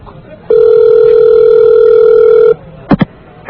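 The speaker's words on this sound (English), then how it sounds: "it's ringing" A telephone rings during a call, one long steady ringback tone lasting about two seconds, clear and loud, followed by a short pair of higher blips near the end.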